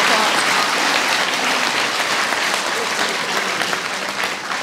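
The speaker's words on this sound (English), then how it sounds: "So let's give them an extra applause." Sustained, loud applause from a school crowd at an elementary Veterans Day assembly, honoring Marines on the Marine Corps birthday; dense, steady clapping fills the whole stretch with no pauses.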